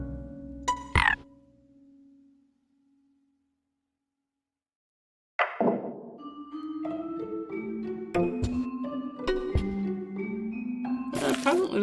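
Frogs croak in a short burst, then after a pause break into a longer, busy run of overlapping croaks and ribbits, fairly loud and close.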